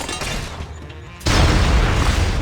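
In Fallout New Vegas, a plasma grenade goes off as one sudden loud boom that cuts in mid-clip after a quieter stretch of game sound and stays loud to the end.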